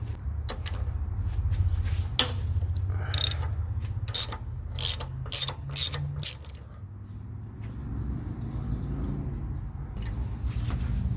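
Ratchet working a 10 mm bolt loose during a Saab turbo replacement, a run of close, sharp clicking bursts over a steady low hum, then quieter fiddling toward the end.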